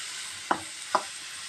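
Ridge gourd pieces cook in a little oil, a soft steady sizzle broken by two quick stirring clicks.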